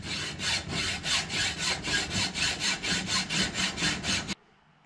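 Hand saw cutting small M3 bolts short, a steady back-and-forth rasp of about fourteen even strokes, close and loud, stopping abruptly near the end.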